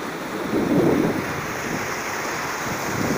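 Water rushes steadily over rocks in the San Gregorio mountain gorge stream at Aldeanueva de la Vera, Spain, a continuous broadband roar with no voices, loudest near the start.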